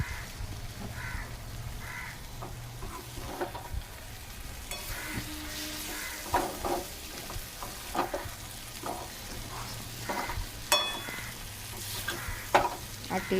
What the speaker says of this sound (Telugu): అటు ఇటు కలుపుతూనే ఉండాలండి, లేకపోతే మాడిడేస్తుంది.